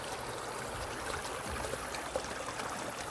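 A forest creek flows in a steady, low rushing wash of water, moderately quiet and continuous, with faint small splashes and no voices.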